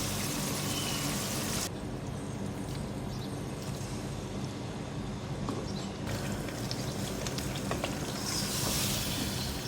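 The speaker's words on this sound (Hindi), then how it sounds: "गोश्त डाल के इसको इतना भूनेंगे गोश्त का कलर चेंज हो जाए" Half a kilo of mutton fries with garlic ginger paste in a pot, giving a steady, dense sizzle that carries on without a break, with faint stirring scrapes and no talking.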